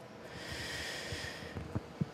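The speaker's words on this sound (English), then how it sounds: "So take a nice deep breath." One slow, deep breath drawn in a quiet room during a guided craving session: a soft, close, airy hiss with a few faint nasal snuffs near the end.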